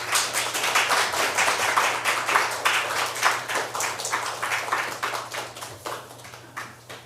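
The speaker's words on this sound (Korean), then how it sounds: "우리 김지동 목사님 나오실 때 우리 환영합니다라는 의미로 큰 박수 드리겠습니다" A church congregation at a Friday prayer service gives a loud round of applause, dense rapid clapping filling the room and then thinning out toward the end, over a low steady hum.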